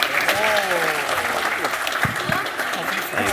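At a live developer conference, an audience breaks into sustained, fairly close applause, with bursts of claps and some cheering voices mixed in.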